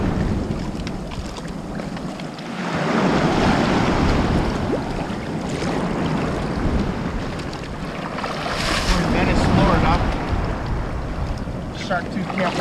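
Choppy ocean waves slap and wash against a small boat out on the water during a shark-tooth hunting trip, a steady, loud rush with heavy wind buffeting the microphone and no voices.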